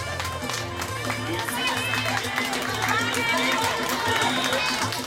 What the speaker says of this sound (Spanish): Vamos pues, fuertes aplausos para que se animen.